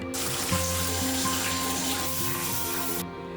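Shower water runs steadily in a neighbouring apartment, a constant hissing flow with a low hum beneath it, heard alone before it cuts off.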